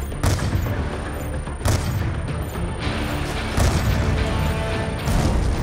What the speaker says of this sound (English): Taking fire from snipers on the overpass!